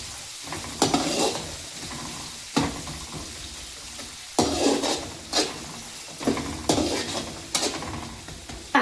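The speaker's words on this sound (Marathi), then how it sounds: "आता कांदे टाकून कांदे लाल होतपर्यंत चांगले भाजायचे" Onions sizzling steadily in a pan over low heat for chiwda, with a spoon scraping and clanking against the metal about every second or two over the constant frying hiss.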